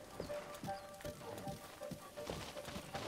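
Horse hooves clip-clop at a steady trot through the Lost Woods of the Korok Forest in Zelda: Breath of the Wild, soft and even under faint game ambience.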